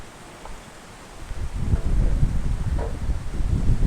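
Strong wind on a cliff trail at Pha Mo E-Daeng, quiet for the first second and then rising into a loud, continuous rumbling roar that buffets the microphone.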